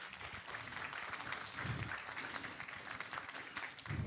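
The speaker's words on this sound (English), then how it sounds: "One more round of applause." Audience applause at a jazz concert, a dense patter of clapping that holds at an even level for about four seconds.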